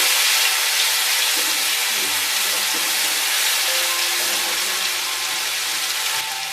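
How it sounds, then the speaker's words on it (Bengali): Poppy seed paste sizzles in a hot pan over a medium gas flame, a steady loud hiss with faint crackle running unbroken throughout. "এবার এর মধ্যে আমরা পোস্ত বাটাটা দিয়ে দিচ্ছি। এটাকে হালকা ফ্রাই করে নেব।"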